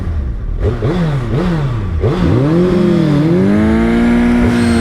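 A Suzuki Hayabusa motorcycle engine revs hard at a drag race, its pitch climbing and dropping in repeated bursts before settling into a loud, sustained high whine.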